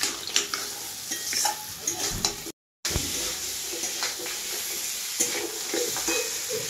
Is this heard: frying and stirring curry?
yes